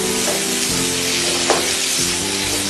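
Thinly sliced onion sautés in butter, a steady dense sizzle with a faint stir around the middle, close and continuous without any talk.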